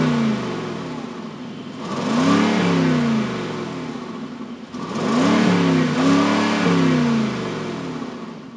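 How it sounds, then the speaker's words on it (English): A 2019 Mercedes-Benz G-Class exhaust revs twice, each burst rising to a loud roar and then falling back to a deep idle rumble between them. "let's listen to this car's exhaust note."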